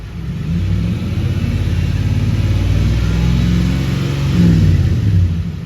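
A V8 engine revs as the throttle is opened in an auto shop lab, a loud steady low roar that climbs a little in pitch and swells near the end, close and with no talk.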